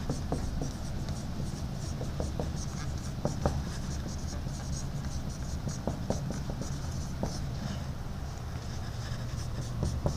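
Marker or chalk scratching and tapping on a board during an AP Calculus lesson, a steady run of short strokes close by, with a faint background hum and no talk.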